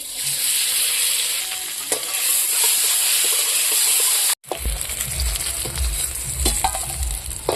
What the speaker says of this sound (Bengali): এখন ডিমগুলো ভাজি নেই